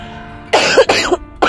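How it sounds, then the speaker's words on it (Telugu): A person coughs up close, three loud harsh bursts in quick succession with a throat-clearing rasp. "ఫుల్గా దగ్గు వస్తుంది."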